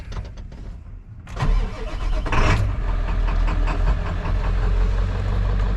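A 1997 Ford F350 truck engine cranks briefly, then catches and settles into a loud, steady, close-up idle with a rough rhythmic rumble.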